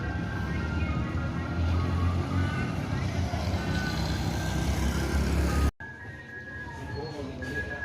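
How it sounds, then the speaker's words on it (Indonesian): An ANS bus pulls in with steady, repeated reversing beeps over a loud engine rumble, then the bus noise cuts off abruptly and the beeping continues more faintly. "Bus ANS masuk lagi"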